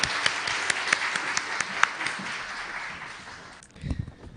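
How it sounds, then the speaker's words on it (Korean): A church congregation claps in welcome, a sustained wash of many hands with a few sharp louder claps standing out, fading out as the room quiets and a voice begins. "우리 박수로 환영하겠습니다"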